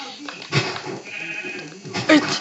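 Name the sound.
sheep bleating in Minecraft video game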